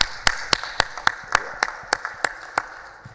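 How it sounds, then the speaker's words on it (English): A few people at a shareholders' annual general meeting clap in slow, steady, fairly evenly spaced beats, about a dozen distinct claps, close and clear over a quiet room. "You need to clap for that thing."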